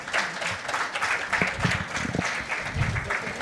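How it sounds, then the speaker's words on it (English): A crowd at a book launch applauds steadily, with dense clapping throughout and some murmured voices underneath. "A big round of applause to Mr. Jawahar Shah"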